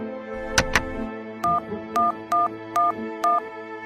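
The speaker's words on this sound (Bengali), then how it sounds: "দাঁড়ান আমি করালি বাবুকে ফোন করছি" A telephone is dialed in a cartoon: two quick clicks, then five evenly spaced tone beeps, each short and clear, over a quiet background.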